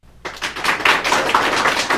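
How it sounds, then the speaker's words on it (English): After a brief quiet start, a group of audience members breaks into clapping to vote for a team, a fairly loud, close, dense patter of many hands. "Clap if you think my team will win."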